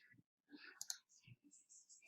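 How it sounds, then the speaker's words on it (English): Computer mouse clicks in a kindergarten Disney Jr. painting game, a few sharp faint clicks interspersed with quiet talk from a person. "You can see here, I'm just clicking."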